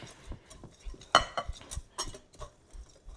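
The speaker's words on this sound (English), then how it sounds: "Give it a whisk." A whisk stirring dry pie crust ingredients, including kosher salt, in a bowl: a brief run of light, uneven clinks and scrapes against the bowl, close up with no voices.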